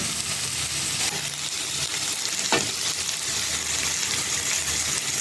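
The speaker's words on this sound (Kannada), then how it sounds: "ಇವಾಗ ನಾನು ಟೊಮೆಟೊ ಹಾಕ್ತಾಯಿದ್ದೀನಿ." Chopped tomatoes fry with onion and ginger-garlic paste in a pan for a field bean (avarekai) curry, giving a steady, close hissing sizzle with occasional stirring scrapes and no speech.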